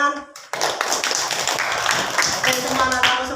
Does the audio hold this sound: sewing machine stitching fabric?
no